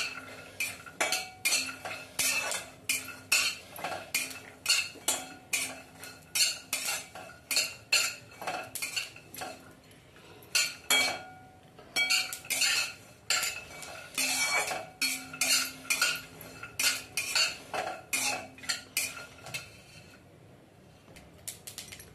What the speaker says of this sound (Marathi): आता याच्यात मी तीळ पण टाकून घेते, तीळ पण भाजून घेते।